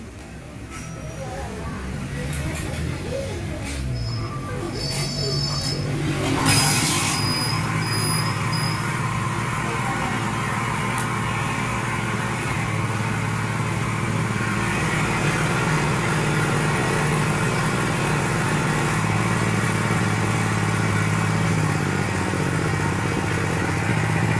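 A TVS XL100 moped engine, just after a clutch repair, starts and then runs steadily nearby, its low putter building into a sustained, even mid-pitched drone, with brief clatter at the start and a voice speaking early on.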